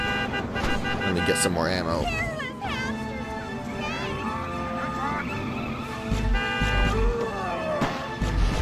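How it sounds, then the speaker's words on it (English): Car horns honk repeatedly amid city traffic chaos in the video game Destroy All Humans!, with sustained toots layered over gunfire and someone talking throughout. "What's with all the honking?"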